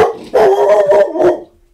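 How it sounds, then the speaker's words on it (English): A dog barks a few times in quick succession, close and loud, then falls quiet. "There he goes barking."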